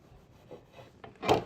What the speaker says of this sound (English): you just simply rub this on the wood handle